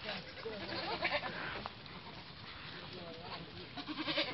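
A goat bleats on a small goat farm, a few wavering calls mixed with other faint animal sounds, while people talk nearby.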